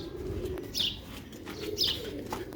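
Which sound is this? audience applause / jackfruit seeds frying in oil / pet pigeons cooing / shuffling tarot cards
pet pigeons cooing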